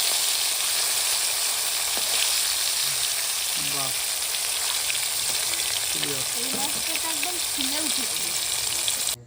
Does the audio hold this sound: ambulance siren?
no